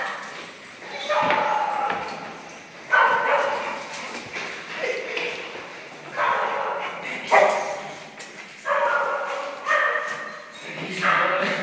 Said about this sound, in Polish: To sú hrozné psy.